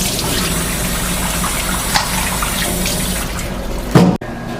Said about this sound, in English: So we rinse it quickly with some cold water.